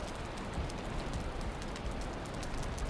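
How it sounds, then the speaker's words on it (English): Rain falling outside in the Valheim video game, a steady, soft hiss of drops pattering on surfaces, with scattered tiny ticks throughout and no voices. "The fact that it's raining outside in Valheim right now, this is such a vibe."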